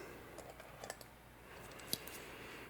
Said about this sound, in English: I'm just gonna trim these wires